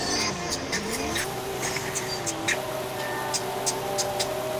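Car engine accelerating in Forza Horizon 5, a loud sustained whine climbing in pitch through gears with faint clicks and game sounds layered on top, no clear talk.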